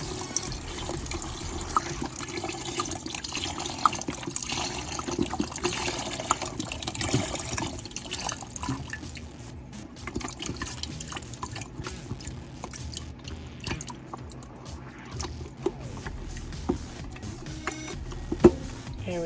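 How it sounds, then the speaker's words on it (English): Boxed chicken broth poured into a pot, a continuous close liquid splashing and trickling that tapers off, with light clinks and handling sounds around it. "I'm going to go ahead and add my chicken broth here"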